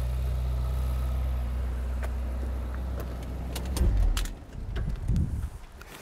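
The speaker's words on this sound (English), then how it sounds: "So let's switch the engine off." A car engine idles with a steady low rumble, then cuts off with a few clunks and rattles before fading to quiet.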